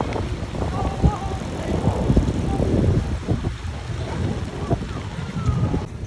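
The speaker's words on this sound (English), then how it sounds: "The rainwater will collect on the sides of the streets and flow into drains like this one." Rain falls on New York City streets, a steady wet hiss with scattered splashes and patters mixed with low city rumble, with no voices.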